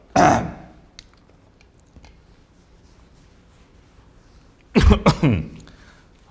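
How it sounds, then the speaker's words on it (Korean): A person with a throat cold coughs once, then after a quiet pause lets out a cluster of several harsh, raspy coughs close to the microphone. "제가 지금 목 감기가 조금 걸린 것 같아갖고 장기침이 조금 납니다"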